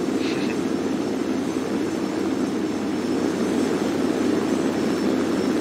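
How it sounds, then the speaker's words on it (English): A propeller aircraft in the combat game War Thunder drones steadily and loudly throughout, a continuous low engine roar without breaks. "Ooh, what plane is that?"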